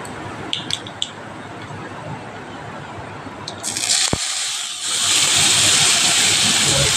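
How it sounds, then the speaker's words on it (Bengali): Pointed gourd (potol) pieces dropped into hot oil with nigella seeds, a low rumbling cook before a sudden loud hiss that swells into a sustained bright sizzle, close by. "কুড়িয়ে রাখা পটলটা তেলের মধ্যে আমি অ্যাড করে দিচ্ছি"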